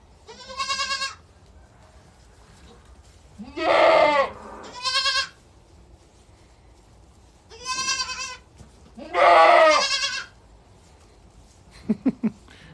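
A bearded goat bleats loudly and hoarsely close by in a rough, growling voice, four long drawn-out calls spaced a few seconds apart, with a couple of short knocks near the end and no talking.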